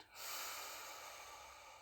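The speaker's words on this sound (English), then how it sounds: "And breathe out." A slow, steady exhale during a guided meditation, one long soft airy breath heard close and alone, fading gently toward the end.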